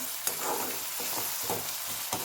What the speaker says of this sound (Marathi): चांगलं परतून घ्यायचंय मॅश होईपर्यंत